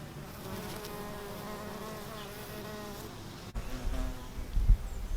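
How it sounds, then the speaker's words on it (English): Continuous buzzing of bees hovering close around garden flowers, a steady droning hum with some rustling and bumps toward the end; no talking. "As you can see, lots of happy bees."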